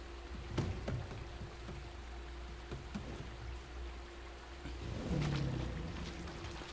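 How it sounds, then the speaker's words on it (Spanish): Steady rain falls in the video game The Last Guardian, a continuous wash of hiss with a few soft thuds and a low rumbling swell near the end, no voices. "Había dejado de llover y ahora otra vez ha vuelto a llover."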